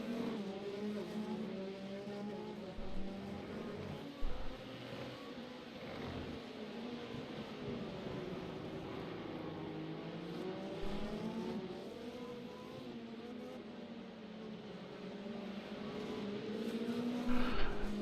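Cadillac V8 hypercar racing at Portimão in the iRacing game, with a continuous loud engine drone rising and falling through gear changes, plus occasional tire squeal and brief bumps, heard with no talking over it.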